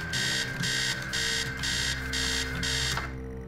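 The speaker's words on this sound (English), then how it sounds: "The sound of alarm clock blaring." A video game alarm clock in Stories Untold blares in loud rapid bursts, about seven pulsing rings over a steady electronic hum, then cuts off abruptly near the end.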